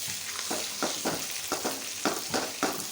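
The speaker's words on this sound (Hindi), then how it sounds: "अच्छी तरह से भुनाई करें।" Spices and raw turmeric roasting in a pan give a close, steady sizzle, with regular stirring strokes scraping through it roughly twice a second.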